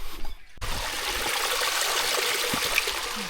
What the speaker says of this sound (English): A slightly bigger waterfall.